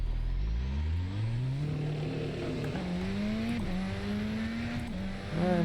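A turbo RS car's engine revs up through the gears on a race track, rising in pitch, dropping at each shift and climbing again. It is heard from inside the car at moderate volume, with no talking.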